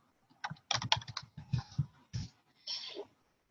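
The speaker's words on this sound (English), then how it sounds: "I'm going to type in slidesgo.com." Keys clacking on a computer keyboard as a web address is typed, several quick close taps in short bursts with brief pauses, clear and alone with no voice.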